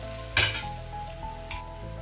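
Chettinad-style egg fry cooking in a pan, a steady close sizzle of frying with two brief sharp clatters of utensil on pan.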